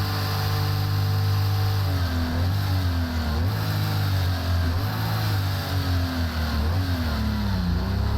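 A Porsche 936 race car in a racing simulator game drones steadily at close range, engine pitch rising and dipping through repeated shifts and corners.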